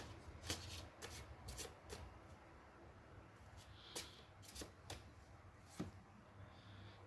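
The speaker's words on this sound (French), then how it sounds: "On va tirer une dernière carte pour voir un peu le final" Tarot cards are shuffled and drawn in a quiet room. Crisp, close riffling bursts repeat irregularly over several seconds, with soft slaps as the cards settle.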